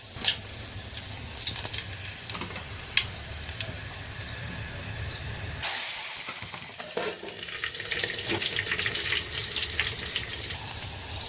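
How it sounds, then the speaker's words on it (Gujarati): Spices crackle in hot oil as Maggi noodles are tempered with onion, chili and tomato, a dense close sizzle that bursts louder partway through and keeps hissing steadily to the end. "વઘાર કરી રહ્યા છીએ."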